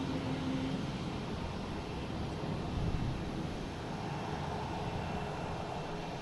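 A JetBlue A321 arriving at Boston Logan from San Francisco gives a soft, distant, steady jet roar that holds evenly and faintly throughout, with no voices.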